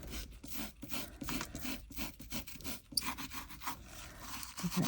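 Glitter is rubbed into wet glue on a resin fish bowl, giving close, soft rhythmic scratchy rubbing strokes that repeat steadily with no talking.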